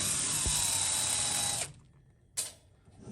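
An electric tool whirs steadily for about a second and a half while backing bolts out of an England Stove Works Smart Stove 25-CB120 pellet stove, stops, then gives another short burst, close and fairly loud.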